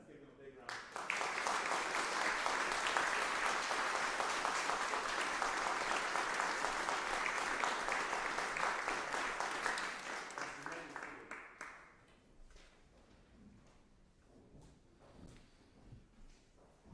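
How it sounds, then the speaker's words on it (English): A church congregation at an Episcopal parish annual meeting breaks into loud sustained applause that holds for about ten seconds before tapering off to scattered claps and quiet room noise. "Let's give them a big round of applause."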